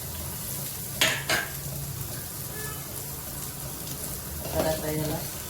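Onions, tomatoes and coriander fry in a pan with a steady soft sizzle, broken by a few sharp clinks and scrapes from stirring, close by.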